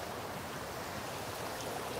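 Jacuzzi water bubbling in a pool area of the Riviera Monaco condominium in Jomtien, Thailand, a steady, dense hiss of churning water with no breaks.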